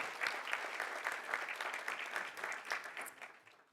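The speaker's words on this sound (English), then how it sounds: "so give her a round of applause" An indoor audience at a talk breaks into warm applause, a dense, even patter of many hands clapping that holds steady and then tapers off toward the end, with no voices over it.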